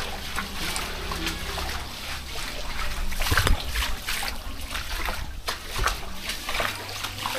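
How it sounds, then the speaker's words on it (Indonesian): Swift floodwater surges through a narrow residential alley in Muara Angke after seawater spilled onto land, giving a steady rushing, splashing wash with brief louder splashes throughout. "Airnya ngalir deras"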